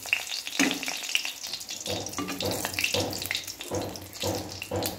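Two dried red chillies dropped into hot oil give a steady crackling sizzle, with watery clatter and stirring sounds throughout, close and moderately loud.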